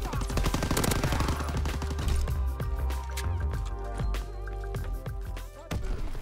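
A PPSh-41 submachine gun fires in a World War II shooter game, with rapid bursts of loud automatic fire mixed with game music and effects, pausing briefly between volleys.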